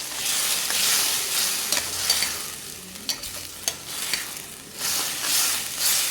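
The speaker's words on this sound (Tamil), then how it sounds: "கொஞ்சம் இந்த ஆயிலே நல்லா வதங்கி வரட்டும்" Tomato masala sautéing in oil in a pan, a steady close sizzle with scattered stirring scrapes and clicks throughout, no talk.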